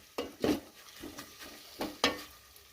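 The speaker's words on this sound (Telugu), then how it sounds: "దీన్ని ఇలా కలుపుకుందాం" A spoon stirs thick masala for Telangana-style fish curry in a pot, making about six distinct scraping strokes. Each is a soft, close swish over a faint background sizzle.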